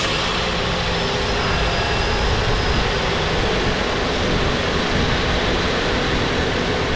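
An engine runs right after a repair, a loud, steady, close mechanical rumble with a faint high whine, holding constant with no voices.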